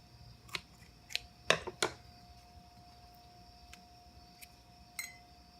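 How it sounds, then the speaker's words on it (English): Pruning scissors snip a Tradescantia pallida (purple heart) stem, giving several sharp, close metallic clicks clustered together, then a single later snip against a quiet background. "I'm gonna make one cut right here."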